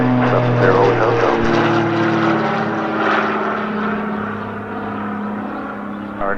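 A Piper Navajo propeller plane flies a missed approach at Spirit of St. Louis Airport, its engines giving a steady, strong droning hum with shifting tonal pitch that eases slightly over several seconds.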